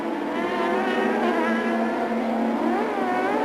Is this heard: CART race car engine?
yes